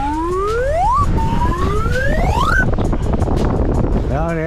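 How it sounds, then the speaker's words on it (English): Strong wind roars steadily against a small boat out on the water, a loud continuous rush with rising whistling tones sweeping over it. "that wind is really blowing us"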